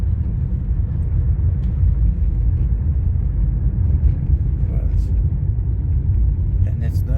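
Steady low rumble of a Toyota Corolla with an MMT (Multi Mode Transmission) driving smoothly, heard from inside the cabin as a continuous road and engine drone without a break.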